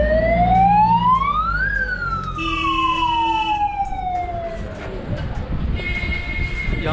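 An ambulance or fire engine siren sounds on Mall Road in Shimla, a loud wailing tone that rises and falls, followed by a brief stepped horn, with crowd and street noise underneath.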